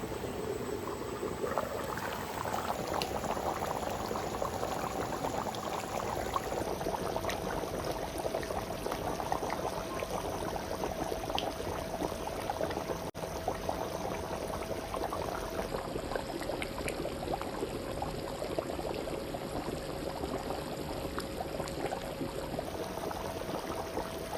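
Mutton curry with fried potatoes simmering in hot water in a pot, a steady soft bubbling and hiss that runs unbroken and fairly quiet with no voices over it.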